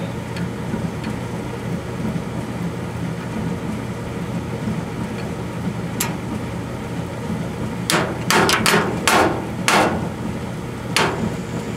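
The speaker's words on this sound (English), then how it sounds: "I hear the gas come on." A steady low roar of gas burning as a Maytag Whirlpool gas dryer's burner comes on fills the clip, with a series of sharp clicks and taps near the end.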